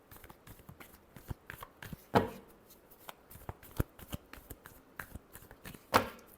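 Tarot cards being shuffled by hand in a series of uneven riffles and soft slaps, close and crisp, with a few louder snaps and no talking.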